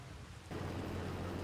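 Rain in the Farming Simulator 25 game world, a dense steady hiss of falling drops that starts abruptly and continues evenly with a low rumble beneath, no voices.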